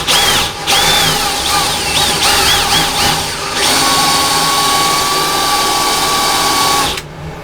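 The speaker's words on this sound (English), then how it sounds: "once you've drilled out all your holes on the 4 corners" A whining power drill runs steadily, drilling holes in a pottery batt, its pitch rising and falling in short bursts before holding a long continuous tone, then stopping abruptly.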